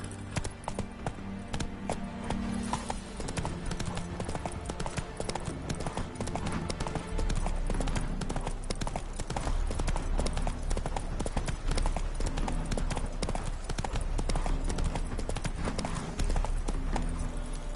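Horse hooves clip-clop in a steady galloping rhythm throughout, with music and ambient game sound underneath; the horse is Roach, in the video game The Witcher 3: Hearts of Stone.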